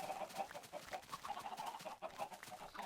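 Faint, continuous clucking of several Minecraft video game chickens, a busy overlapping murmur of soft bird calls with no voices.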